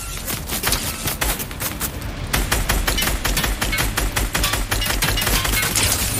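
Gunfire in the video game Fortnite, heard as rapid bursts of sharp shots repeating in quick clusters, fairly loud and close, with no talking.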